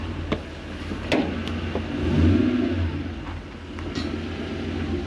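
A black Toyota Hilux Xtra Cab fitted with a 1UZ V8 engine drives slowly nearby, its low engine hum rising briefly with a little throttle, with a few sharp knocks and clicks.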